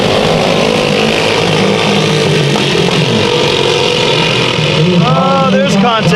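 Senior mini dwarf race cars roar together in a loud, steady engine drone on the Bakersfield Speedway dirt track, with revving swells near the end.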